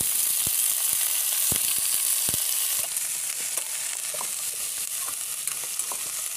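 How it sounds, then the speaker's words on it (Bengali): Food fries in a pan in a home kitchen, giving a steady close sizzle with scattered soft pops and clicks of stirring. "ভেজে নিচ্ছি"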